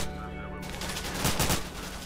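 Rapid gunfire bursts in the shooter game STALKER CoC, loud and close, with several overlapping shots across a couple of seconds over steady game ambience.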